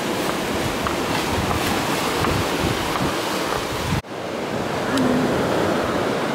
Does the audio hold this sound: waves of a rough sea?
yes